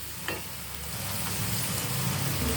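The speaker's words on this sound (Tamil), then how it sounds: "அது நல்லா வதங்கட்டும்." Masala with ginger garlic paste and turmeric sautés in a pan for beetroot kurma, a soft steady sizzle that swells slightly toward the end, with no talking.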